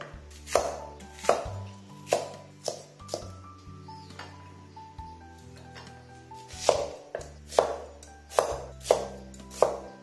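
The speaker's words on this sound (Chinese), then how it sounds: "青红甜椒同样把它切块" A knife chops red and green bell peppers into pieces on a cutting board for a braised one-pot dish, with steady, close, crisp strikes arriving in bursts and a short pause midway.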